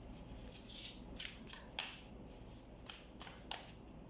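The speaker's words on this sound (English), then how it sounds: "Just shuffling." Soft, papery tarot card shuffling with quick riffling bursts and light taps, close and quiet, no voices.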